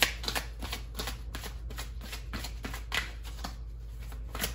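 Oracle cards being shuffled by hand: a run of crisp, rapid riffling flutters close by, repeating in quick bursts over a low steady hum.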